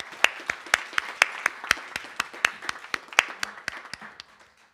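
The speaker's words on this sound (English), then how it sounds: "If we could give them another round of applause." A small audience at a town hall meeting on immigration claps for the panelists, a sparse, distinct patter of individual hand claps, fairly close and steady, tapering off toward the end.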